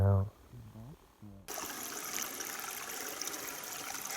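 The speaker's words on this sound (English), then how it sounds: "Fresh spring bubbling right out of the ground." Fresh spring water bubbles and trickles out of the ground in the Alaskan backcountry, a steady close burbling that starts abruptly after a brief moment of voice and then runs on continuously.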